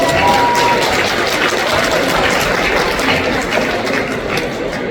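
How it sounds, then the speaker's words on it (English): Steady, dense applause from a crowd at a crowning ceremony, loud and continuous for several seconds with no clear voices over it. "So give him a round of applause."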